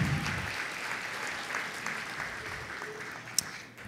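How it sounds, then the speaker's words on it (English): Applause from the audience at a luncheon event, a steady wash of clapping that holds at moderate volume before thinning out, with one sharp clap near the end. "Please give a big round of applause to Terry."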